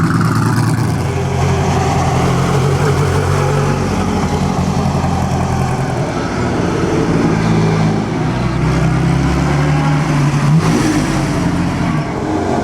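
A 4-cylinder Ferrari racing car at the 2009 Mille Miglia roars loudly and continuously, its engine rising and falling in revs as it passes close by.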